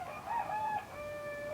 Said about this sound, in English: I hope you can hear me over the chickens crowing in the background.